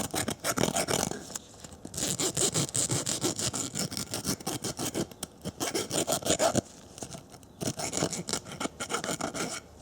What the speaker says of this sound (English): I had to file down the inner diameter little by little until it was a tight fit